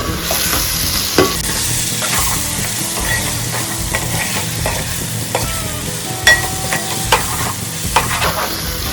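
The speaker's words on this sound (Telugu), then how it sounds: "ఇవన్నీ కలిపి ఒకసారి అయితే తిప్పుకుందాం" Spice powders are stirred into a frying curry base for a dried fish and taro root stew, with constant close sizzling and repeated scraping and clanking of a spoon against the pot.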